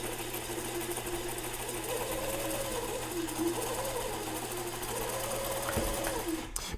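A sewing machine hems a muslin hat strap, running in a continuous fast mechanical whir with rapid needle chatter, close and steady for several seconds before stopping with a brief click.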